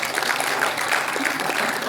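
An audience at an annual award ceremony and cultural program gives a welcoming round of applause to honoured parents, a steady mass of clapping at moderate loudness across the short span.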